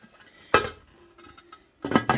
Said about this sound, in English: Now I'm going to put my lid on.